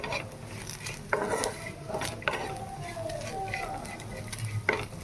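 Dried fish fries in a pan with a continuous close sizzle, punctuated by a few sharp utensil clinks and scraping stirs against the metal.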